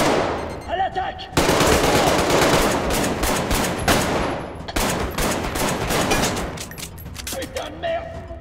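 Sustained machine gun fire in the VR shooter Arktika.1, loud and dense bursts with a brief pause near the start and trailing off toward the end, with a voice talking over the shooting.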